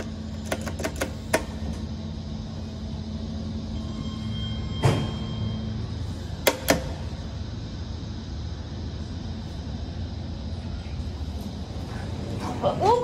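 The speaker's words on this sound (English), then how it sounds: "he can hear the motor on the left over the car" Parking garage door motor in a downtown St. Petersburg, Florida garage, a steady low hum running throughout with a few sharp clicks and clunks, heard alone without talking.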